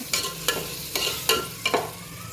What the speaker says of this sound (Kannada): ಅವನ್ನು ಹಾಕಿ ಒಂದೆರಡು ನಿಮಿಷಗಳ ಕಾಲ ಹಸಿ ವಾಸನೆ ಹೋಗುವವರೆಗೂ ಫ್ರೈ ಮಾಡಬೇಕು.